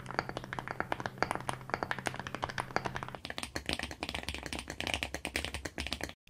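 Fast, steady typing on a custom mechanical keyboard with a creamy sound: dense, even clacks of keys struck close up, with no talk.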